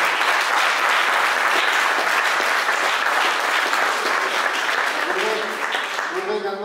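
An audience at a park festival forum claps steadily in dense, sustained applause that fades slightly near the end as a voice begins to speak.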